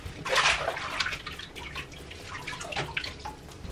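Water runs from a shower while hair is being rinsed during a wash day, a soft splashing hiss that swells and fades unevenly, fairly quiet and close.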